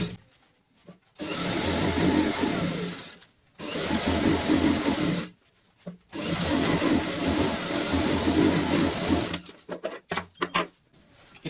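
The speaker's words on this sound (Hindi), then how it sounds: "इस तरीके से हमने एक सिलाई लगाई है" A sewing machine stitches fabric strips together with a half-inch margin for a bed sheet made from leftover cloth, running in three long, close, steady bursts with short pauses between, then a few brief stuttering starts at the end.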